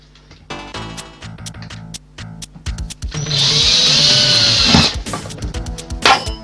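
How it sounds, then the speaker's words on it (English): Power drill running beside a floor, starting with short clicking bursts of trigger taps, then a sustained loud whirring drill run for a couple of seconds that cuts off, followed by a few clunks. "now Jamie, do not drill into the floor"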